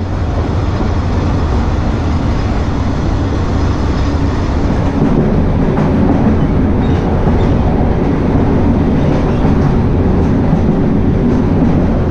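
A passenger train on the Benha–Mit Ghamr line rumbles steadily from inside, with a loud continuous roar and faint rhythmic rattling and clacking of the wheels throughout.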